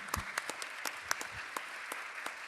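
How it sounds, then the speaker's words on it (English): Sparse, scattered clapping from a small group at a city council meeting, a handful of separate claps spread irregularly over a few seconds, fairly quiet and without talk. "let's give Ms. Bailey a round of applause"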